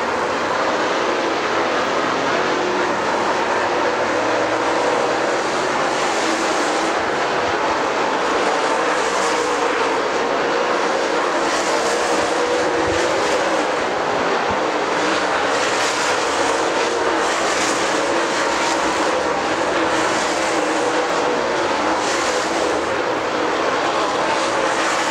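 Super Late Model race cars roar through practice laps at Dixie Speedway, a loud, continuous wash of engine noise that swells and fades as the cars pass.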